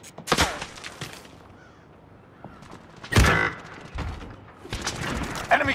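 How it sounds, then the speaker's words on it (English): Gunfire in Call of Duty: Modern Warfare, with several sharp, loud bursts of shots separated by brief lulls, and the last burst swelling into a sustained volley. "I am under fire!"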